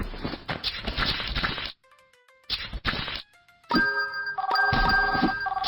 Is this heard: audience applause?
no